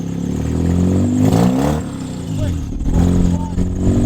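A Mazda RX-K car engine revving hard during a burnout, a loud rising and falling roar with shifting pitch, while people shout and talk over it.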